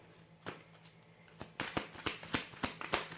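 A deck of tarot cards being shuffled by hand, sharp papery riffles and flicks that start sparse and quicken into a steady run of crisp, close shuffles.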